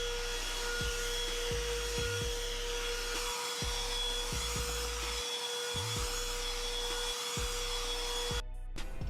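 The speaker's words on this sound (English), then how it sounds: "I recommend using a smaller vacuum like this one here" A small handheld vacuum cleaner drones close and loud without pause, its steady whine shifting slightly as the nozzle bumps and scrapes across dirty Recaro car seats.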